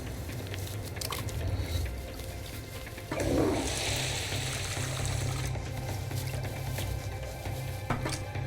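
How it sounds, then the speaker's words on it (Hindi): Water runs from an indoor tap as a steady hiss that swells midway and then settles, with nobody talking. "पानी बंद कर दिया है मैंने"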